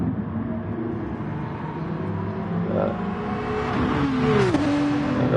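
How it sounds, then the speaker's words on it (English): GT race cars, an Aston Martin, a Porsche and an AMG, racing at the Red Bull Ring in Austria; engines drone steadily, then one revs up loudly, sweeps past close by and drops in pitch as it shifts. "So we've got Aston Martin versus Porsche versus AMG."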